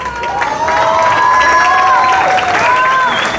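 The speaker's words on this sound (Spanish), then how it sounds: "El aplauso fuerte" A festival crowd at a queen's coronation during a cultural festival bursts into loud cheering and clapping. Excited voices and high, wavering whistle-like shouts ride over the noise for a few seconds.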